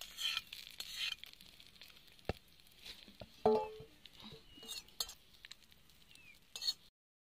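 A spoon stirs a garlic tadka into a bowl of yogurt, making close rubbing and scraping strokes broken by a few sharp metallic clinks against the bowl, with no voices.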